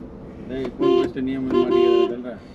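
A car horn honks close by in a few short and longer blasts, loud and tonal, with faint traffic noise underneath.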